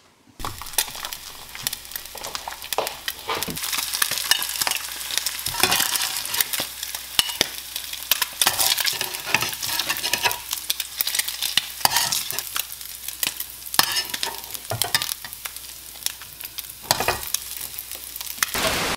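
Eggs frying in a frying pan, a steady close crackling sizzle running throughout with occasional scraping and stirring clicks, no voices.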